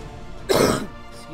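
A single throat-clearing cough close to a microphone, one short loud burst with a faint trailing rasp, alone without any talk.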